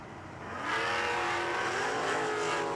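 A 1968 Chevrolet Camaro at a bracket drag race, its engine revving up hard and then holding a loud, steady roar as it launches down the strip, heard alone without voices.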